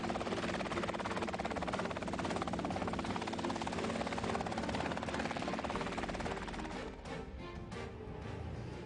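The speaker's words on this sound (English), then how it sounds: "The R-22 is powered by a 180 horsepower four-cylinder boxer engine." A Robinson R-22 helicopter with a 180 horsepower four-cylinder boxer piston engine runs steadily, its dense rotor chop and engine drone loud and continuous, easing slightly near the end.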